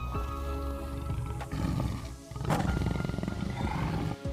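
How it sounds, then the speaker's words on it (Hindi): A tiger caught in a trap lets out a loud, rough roar that swells and rumbles over a few seconds, alone and close, with a second burst of growling midway. "बाघ जाल में फंस गया।"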